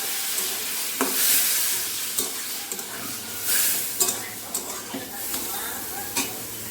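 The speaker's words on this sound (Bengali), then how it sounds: "পরিমাণ মতো জল দিয়ে দিচ্ছি।" Water is poured into a hot pan of vegetables with ground mustard and ginger, bursting into loud close sizzling and hissing that swells and fades as the mixture is stirred, with no voices.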